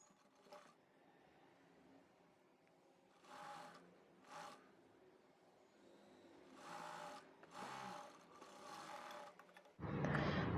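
A sewing machine stitches the side seam of a simple frill frock in short, separate bursts of whirring that grow longer toward the end, finishing with a louder run, with no talk.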